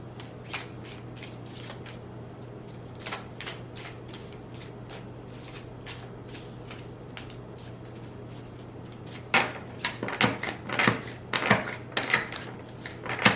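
Someone shuffles an oracle card deck at close range. Soft, steady riffling fills most of the time, then louder, quicker flurries of card flicks come near the end, with no one speaking.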